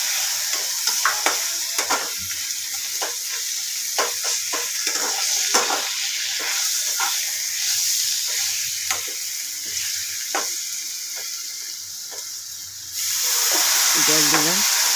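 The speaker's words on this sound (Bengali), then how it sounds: "আদা বাটাটাও কষানো হয়ে গেল।" Ginger paste fries in a pan with a close, crackling sizzle and repeated scraping stirs, then the hiss swells louder near the end.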